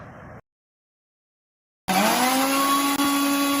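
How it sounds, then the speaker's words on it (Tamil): A kitchen mixer grinder whirs loudly, grinding chutney with a little sugar and oil. A short burst cuts off, then after a brief silence the motor starts again and runs as a steady, high-pitched whine with a rising tone. "அடுத்து கொஞ்சோண்டு சர்க்கரை அடுத்து கொஞ்சோண்டு எண்ணெயை ஊற்றி அடிச்சிருவோம் அதோட சட்னி வேலை முடிஞ்சிருச்சு"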